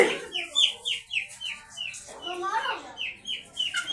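A broody hen clucks repeatedly in quick, rhythmic bursts, close and clear, with a louder drawn-out squawk midway.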